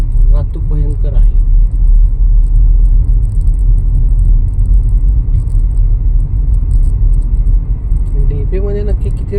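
Heavy road traffic on the Kothrud to Ravet bypass, a loud continuous rumble of passing vehicles filling the scene close by, with someone talking over it.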